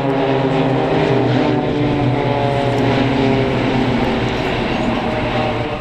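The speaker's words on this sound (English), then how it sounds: "a twinkle roll from the plane" A propeller plane performing a twinkle roll at the Bournemouth Air Festival 2011 produces a loud, sustained engine drone with steady harmonic tones and no break.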